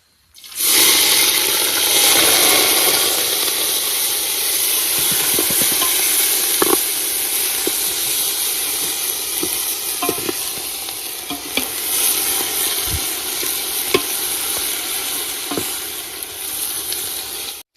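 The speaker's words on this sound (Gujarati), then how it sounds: "આપણે લસણ કમ્પ્લીટ શેકન તૈયાર થઈ ગયું છે" Green garlic sizzles steadily in hot oil in a pan for a Gujarati tuver totha dish, with a loud continuous crackle close by and occasional scraping taps of a stirring spoon.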